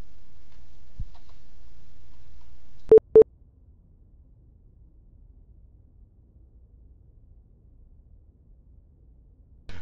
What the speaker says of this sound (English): We apologize for that Morse code beep